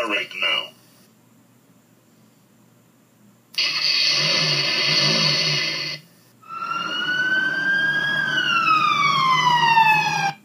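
A police car siren wails in a toy-like scene, first an engine start and buzz, then a rising electronic siren tone sweeping upward, fairly clear and close after a short stretch of speech.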